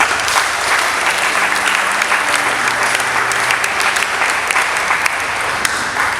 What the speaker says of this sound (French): Si nous pouvons applaudir.